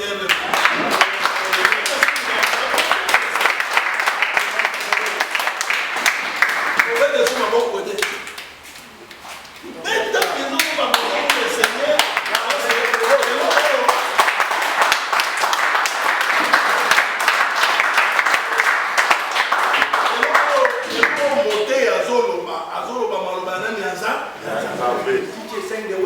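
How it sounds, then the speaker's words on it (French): A church congregation claps for the Lord, long sustained applause with dense rhythmic hand claps, briefly dipping quieter near the middle before swelling again, voices audible among the clapping. "Applaudissez pour le Seigneur."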